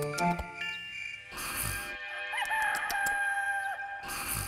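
A cartoon bird character crows like a rooster in a loud, drawn-out cock-a-doodle-doo, with a brief jingle and other cartoon sound effects around it.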